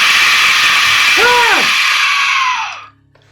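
A single loud, shrill scream sound effect played during a hardcore survival Dungeons & Dragons session, rising and falling over a harsh, noisy wash before cutting away to near silence.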